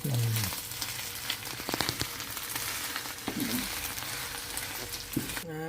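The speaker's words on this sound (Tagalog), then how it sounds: "Pinapakuluan natin ating latik." Latik, coconut milk curds, bubbles and sizzles in a pan, a close continuous crackle with small pops and brief clinks, no one talking.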